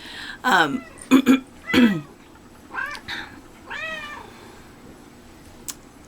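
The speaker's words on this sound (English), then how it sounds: "here's the kitty cat coming to visit" Domestic cat meowing close by indoors, a run of short, loud meows in quick succession followed by a couple of softer, drawn-out ones, with no speech over them.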